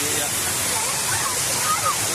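Water pours steadily over the Sithathipuram dam waterfall at Kuruvithurai near Madurai, a close, continuous broadband rush with faint voices underneath.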